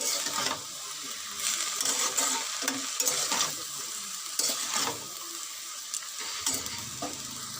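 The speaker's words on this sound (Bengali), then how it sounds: "দেখো বন্ধুরা সব মাছটা ভেজে তুলে রেখে দিয়েছি" Fish frying in hot oil in a pan in a home kitchen, a continuous crackling sizzle with bursts of spatter and stirring scrapes, heard close and alone.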